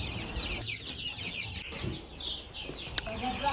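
A flock of village chickens clucks and squawks nearby in Namibia as they are caught and carried toward the coop, busy overlapping calls with rustling and wing flaps.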